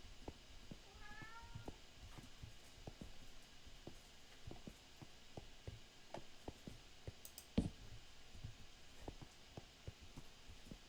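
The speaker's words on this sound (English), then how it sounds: "Come on over here, you goofy cat." A Minecraft cat meows a few times in a game world, with faint repeated clicks and soft ambient hum throughout.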